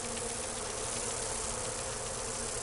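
Bees buzzing by a fade-touched honeycomb in Dragon Age: Inquisition, a thick, constant swarm drone that stays close and steady throughout, with no voices.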